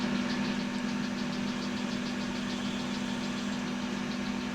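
A metal lathe spins at about 1000 RPM, giving a steady low mechanical hum with a faint, even rhythmic whir above it, continuous and unchanging throughout with no voices.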